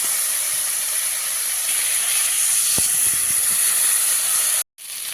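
Curry in a pan sizzles loudly and steadily after a little water is added, a dense hiss with faint clinks from stirring partway through, cutting off abruptly near the end before resuming.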